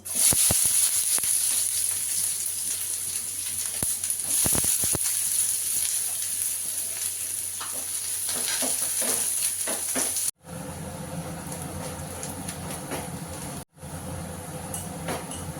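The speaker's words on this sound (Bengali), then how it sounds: "তেলটা গরম হয়ে গেছে, পেঁয়াজটা দিয়ে দিব।" Sliced onions frying in hot white oil for birista, a loud, dense, unbroken sizzle close by with a couple of brief cut-outs near the end.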